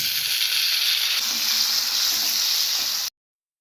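Tomatoes hitting hot oil with browning onions for butter chicken give a loud, steady frying sizzle with faint stirring, running continuously before cutting off abruptly near the end.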